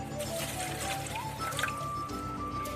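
Warm water trickles steadily into a bowl of yeast and sugar, a soft continuous pour with faint dribbling, close by and fairly quiet.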